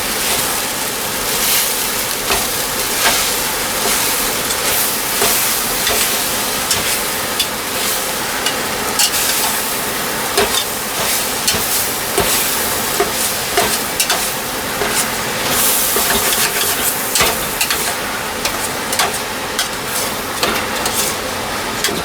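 Spicy jalapeno refried beans and taco dip ingredients cooking together in a pan, a loud continuous sizzle with scraping stirring strokes throughout, close up.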